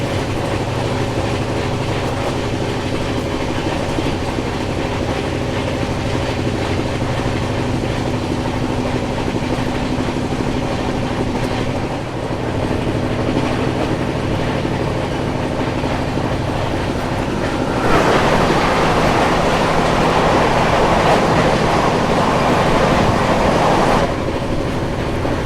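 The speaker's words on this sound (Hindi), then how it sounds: "आ रही है दिल्ली फाजिल्का इंटरसिटी एक्सप्रेस" The Delhi–Fazilka Intercity Express rumbles past at close range near Panipat Junction, India, with steady rattling and clickety-clack of wheels, growing louder and busier toward the end before easing off.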